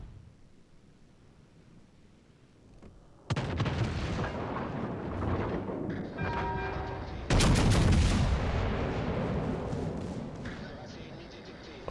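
Heavy battleship main-battery salvos in the naval combat game World of Warships Legends, two loud booming volleys a few seconds apart with rumbling tails and crackling debris, mixed with game radio chatter.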